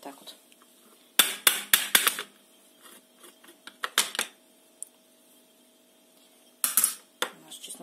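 Garlic scraped over a metal grater in short bursts of rough, rasping strokes with quiet gaps between them, close and crisp.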